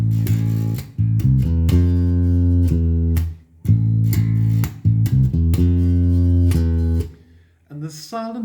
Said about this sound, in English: normally start playing the intro riff twice. So you're going to hear this.